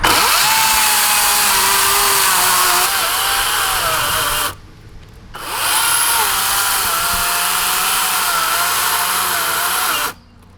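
An electric chainsaw runs loud and close, its steady motor whine wavering as it cuts, then drops off briefly before revving back up and stopping near the end.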